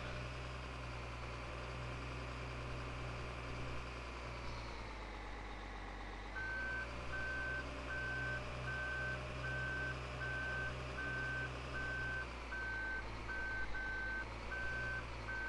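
In Farming Simulator 2015, a farm vehicle backing into a shed sounds a steady, evenly spaced reversing beep over a continuous droning engine idle.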